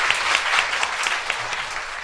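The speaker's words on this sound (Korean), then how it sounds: "박수 한번 주세요." Audience applause at a Korean live talk show taping, a dense, steady wash of many hands clapping that stays loud and even for about two seconds, with no talk over it.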